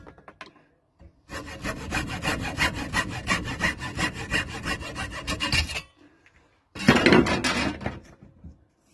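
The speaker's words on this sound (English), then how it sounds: "Let's use a bigger saw than the hacksaw." Large hand saw roughing out a wooden spoon blank, fast rhythmic back-and-forth rasping strokes for about four and a half seconds, a pause, then a shorter burst of sawing, close and loud.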